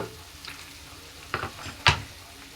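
Tomatoes and ginger paste fry for a chicken curry while a spoon stirs them in the pan, giving two short scraping strokes with a soft clunk over a faint sizzle.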